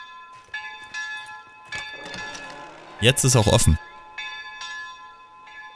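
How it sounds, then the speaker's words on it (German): Church bells in the video game Mundaun keep tolling with spaced, ringing strikes, while someone briefly talks over them partway through and a dull knock sounds nearby. "Da oben läuten die Glocken."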